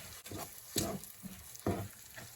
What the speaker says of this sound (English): I'm going to allow this now to just cook down into my beef here